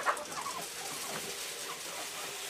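Several chickens cluck and murmur softly nearby, short overlapping calls against a faint outdoor hiss.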